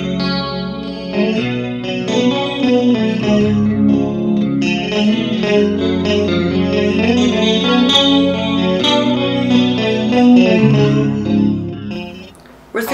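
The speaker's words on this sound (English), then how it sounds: "Chorus is a very unique chorus effect, with a very watery and organic sound." Electric guitar played through a chorus effect pedal with a watery, organic shimmer, sustained chords and notes ringing continuously and fairly loud, with no talking, until a short drop near the end.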